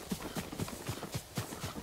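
Horse hooves clip-clop at a steady trotting rhythm in the Ghost of Tsushima video game, with evenly spaced thuds close by and no talking.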